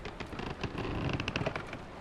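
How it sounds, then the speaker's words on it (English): Steady, quiet rain hisses and patters continuously in the Herald video game, a soft even wash of falling drops with no voices. "It is raining, apparently, as well, so that's not good."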